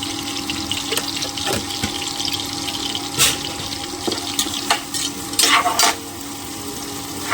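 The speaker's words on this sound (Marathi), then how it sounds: "कांदा चांगला ब्राऊन होईपर्यंत आता मी फ्राय करून घेणार" Onion fries on a high flame in a pan, giving a continuous loud sizzle with watery crackle and several sharp scrapes and clatters of a spatula. No one speaks.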